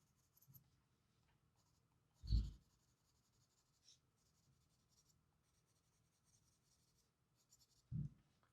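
Pencil colouring pigment onto paper during a colour-along, soft scratchy strokes that are quiet and close, broken by a few louder bumps of handling.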